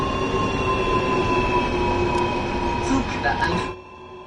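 A DB BR187 electric locomotive in Train Sim World 3 with its wheels slipping on a climb under too much power: a steady rumbling roll with squealing tonal whines and scattered clanks, cutting off abruptly near the end.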